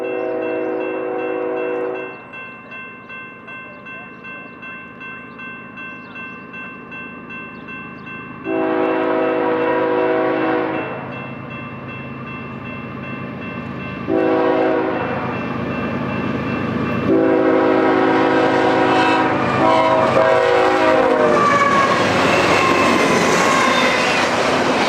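A BNSF freight train rolls past on the Chillicothe Subdivision in Illinois, its horn sounding in several loud, sustained blasts over a steady rumble of wheels and cars that swells and grows closer toward the end.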